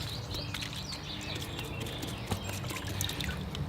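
Water drips and trickles faintly as the roots of a northern white pine bonsai soak in a container during repotting, a quiet scatter of small irregular drops with no talking.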